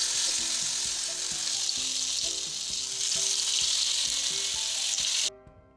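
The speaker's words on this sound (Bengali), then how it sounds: "কড়াইয়ে তেল গরম করে নিব, এরপরে সব কিছু ভেজে নিতে হবে।" Mustard flower fritters fry in hot oil in a wok, a dense, even sizzle with light bubbling crackle that continues close and loud, then stops abruptly just before the end.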